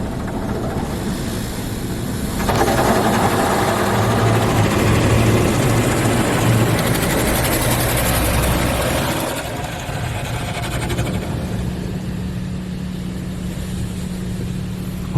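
Pro Navigator car wash machine at Precision Auto Wash in Federal Heights, Colorado, with some nozzles not spinning properly, runs as a steady mechanical whir and rush of spray, swelling louder through the middle stretch before settling back, no voices.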